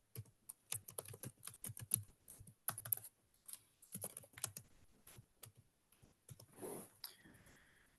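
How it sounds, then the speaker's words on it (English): Rapid bursts of typing on a computer keyboard, irregular clusters of close, crisp key clicks separated by brief pauses, with a softer rustle near the end and no talking. "I'm typing that right now."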